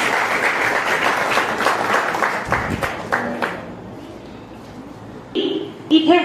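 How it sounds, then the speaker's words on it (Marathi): An audience claps for children at a Jain Seva Dal quiz event, a loud burst of many hands that fades out after about three seconds, followed by a quieter pause and a few faint tones. "या मुलांसाठी एकदा जोरदार टाळ्या होऊन जाऊया"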